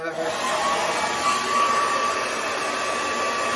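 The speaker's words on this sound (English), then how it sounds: "I'm about to get ready to use my diffuser right now and blow dry it" A hair dryer fitted with a diffuser blows on short 4C natural hair with a continuous, close, loud whirring hum at a steady pitch.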